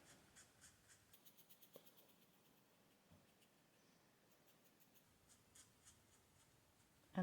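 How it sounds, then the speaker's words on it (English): A fuchsia pen colours in a sketchbook on watercolour paper, making faint, soft scratchy strokes in a quiet room, ending with a brief louder knock. "I'm just going to colour in the section next to the black on the left"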